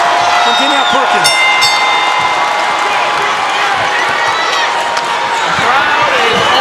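Boxing crowd on its feet cheering before the tenth and final round of a homecoming fight, a dense, loud, constant roar of voices and shouts with sharp whistles rising above it.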